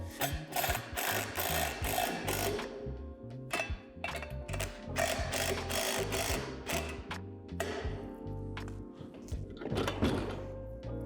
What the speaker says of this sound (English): Tighten the nuts until the rim doesn't wobble